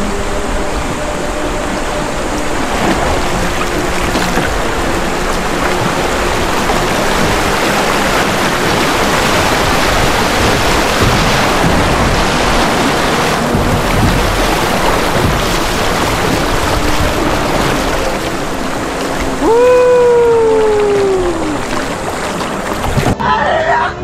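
The Angat River rushes past a campsite along Norzagaray in a loud, constant roar of water that fills the whole stretch, with a brief whistle-like sweep near the end.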